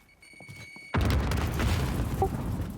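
Grenade blast in a military shooter video game, with a faint tonal beep and quiet ambience before a sudden loud boom whose rumbling debris tails off.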